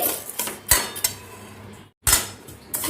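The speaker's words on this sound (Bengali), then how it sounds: "বিউলির ডালটা একটু হালকা করে একটু ভেজে নিচ্ছি" Urad dal (biulir dal) dry-roasting in a pan, with close spatula scrapes and sharp metallic clinks against the pan in an irregular rhythm, broken by a short silent gap before the scraping resumes.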